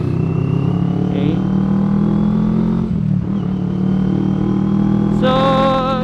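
A 2020 CFMoto 400NK, a 400cc motorcycle, riding at speed on a highway. Its engine holds a loud, steady, close drone with no break.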